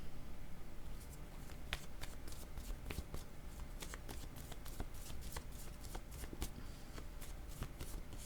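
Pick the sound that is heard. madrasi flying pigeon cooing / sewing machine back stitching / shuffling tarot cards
shuffling tarot cards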